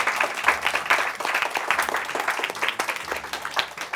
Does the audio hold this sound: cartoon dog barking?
no